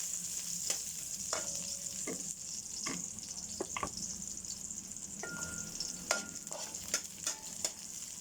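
A pan sizzles softly as ingredients are sautéed for fish sinigang with dorado, and a utensil taps and scrapes at the pan in scattered strokes. The sizzle is faint and continuous and stays in the background.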